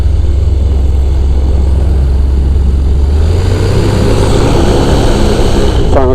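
A flexwing microlight aircraft engine drones loud and steady throughout its takeoff roll, with the pitch shifting midway as power changes and no talking over it.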